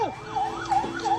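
Police car siren wailing in repeated rising and falling sweeps during a pursuit of a white sedan that ran a red light, loud and close with road traffic noise underneath and no talking.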